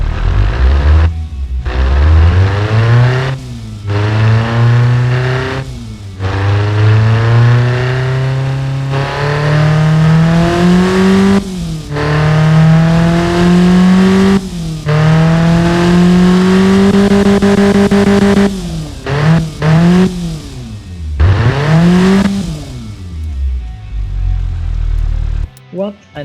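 A tuned Ford Transit 2.0L engine in the Automation game revs repeatedly, its loud droning tone climbing and falling in pitch through several long pulls with brief drops between them, heard alone.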